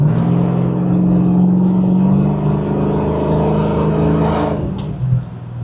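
Engine of a ute idles and revs steadily with its repaired transmission spinning, a loud continuous hum close by that rises and eases, ending with a brief bump.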